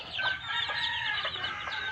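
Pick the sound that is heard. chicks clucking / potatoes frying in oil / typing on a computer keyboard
chicks clucking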